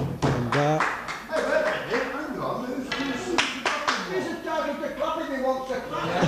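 A few people clap during a 1983 snooker match at a working men's club in Reddish, sharp irregular hand claps scattered through ongoing speech and commentary.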